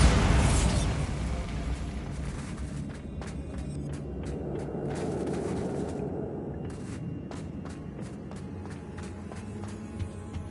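A Bombarda spell explosion in Hogwarts Legacy opens with a loud burst that fades into a rumbling, debris-filled tail, with scattered sharp pops and clicks following over about ten seconds.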